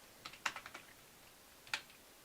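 A computer keyboard being typed on during C# coding, a quick run of about six soft, close clicks followed after a pause by a single louder keystroke, over a quiet background.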